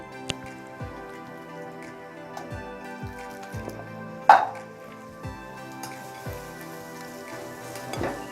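Beef sizzles in a karahi pan with a soft, sparse crackle and scattered ticks and clinks, plus one sharp louder splash-like burst midway; no one speaks.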